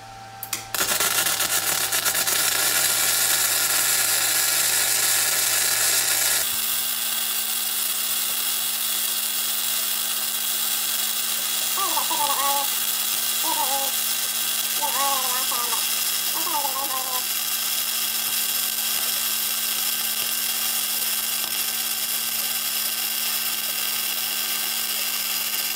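Flux core welding with a Harbor Freight Titanium Unlimited 200 welder: after a brief start, a steady, loud, crackling buzz-hiss runs continuously for about twenty seconds close by.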